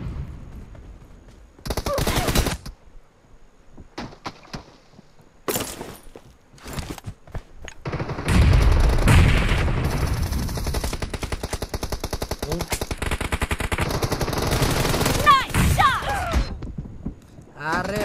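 Gunfire in the PUBG Mobile battle royale game, with shotgun-armed opponents nearby: bursts of loud, close shots come in clusters early on, then a long dense stretch of rapid fire under steady noise, with speech mixed in.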